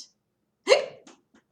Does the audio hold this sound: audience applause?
no